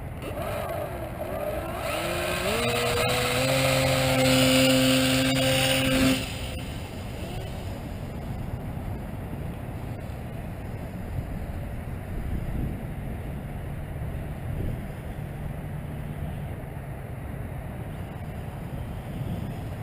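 An F27c Stryker-clone delta RC plane's electric motor whines loudly for a few seconds, pitch climbing as the throttle opens, then cuts off, leaving wind noise and a distant faint hum.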